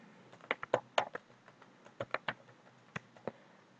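Typing on a computer keyboard, irregular bursts of quiet, close key clicks with short pauses between groups, no talk.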